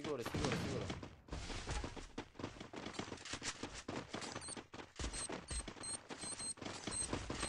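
Rapid gunfire bursts and fusillades from the mobile battle royale game Free Fire, dense and continuous throughout.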